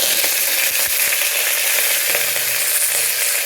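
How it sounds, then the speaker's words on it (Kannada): Chilies, mustard seeds and curry leaves sizzle steadily in hot oil for a curry tempering, a constant loud crackling hiss with a few soft stirring taps. "ಇವಾಗ ಇದಕ್ಕೆ 2 ಮೆಣಸಿನಕಾಯಿ ಮತ್ತು ಸ್ವಲ್ಪ ಸಾಸಿವೆಯನ್ನು ಹಾಕ್ತಾಯಿದ್ದೀನಿ"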